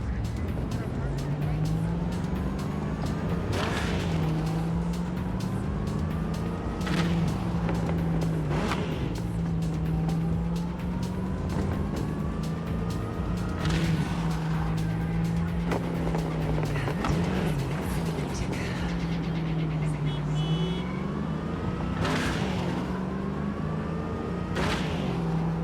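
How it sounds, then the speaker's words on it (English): A car's engine and exhaust drone while driving in Cyberpunk 2077 on PC, a loud sustained engine note that climbs and drops with each gear shift, with sharp transient pops and tire noise, and someone talking over it. "One thing that I really enjoy about this car is its exhaust sounds."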